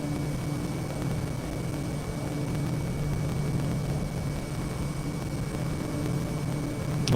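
Airplane engine in the video game Microsoft Flight Simulator, on a Canadian route from CYRT to CYSF, a steady droning hum with broadband rush, constant and close, no voices.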